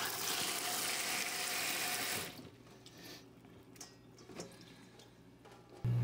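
Mushrooms for clam-stuffed mushrooms are rinsed in a sink under a running tap, a steady rush of water for about two seconds that then cuts to quieter drips and small handling clatter.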